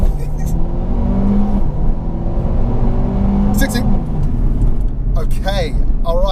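A 4-wheel-drive Mercedes A35 AMG launches hard under launch control for a 0 to 60 run, its engine roaring loudly and steadily up through the gears, with voices talking over it near the end.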